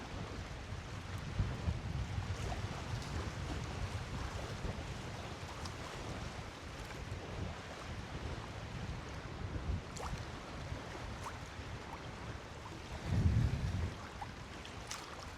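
Wind blowing over open cold water, a steady broadband rush with buffeting on the microphone and lapping water throughout, with a brief louder gust or splash near the end.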